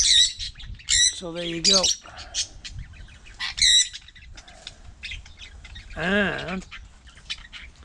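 Lovebirds and sun conures at breeding time give loud, close, piercing squawks and chirps in short bursts. Someone speaks briefly between the calls.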